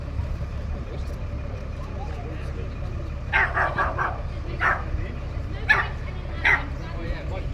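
A dog at an outdoor vintage bus rally gives a few short yips and barks in quick bursts midway through, moderately near, over a steady background of engine rumble and crowd murmur.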